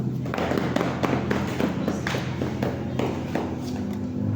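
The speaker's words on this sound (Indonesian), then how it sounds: "Selanjutnya kita beri aplaus kepada kelompok 1." A group of people applaud a presenting group in a classroom, a loose scatter of claps and taps mixed with soft thuds, moderately near and continuing steadily.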